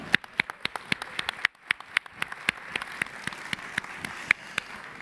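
Scattered, sparse hand claps at a Hall of Fame induction ceremony, individual sharp claps spaced unevenly over five seconds, fairly quiet and distant rather than a full ovation.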